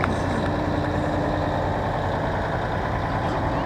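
A Rouse's Point Fire Department fire engine idling in a street parade, a loud, continuous low engine rumble that stays steady throughout.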